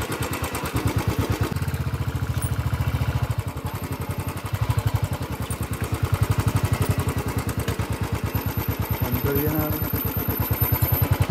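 A vehicle engine chugs steadily on a rough off-road hill track, a loud, close, rhythmic clattering throb that rises and falls with throttle throughout, with a voice now and then over it.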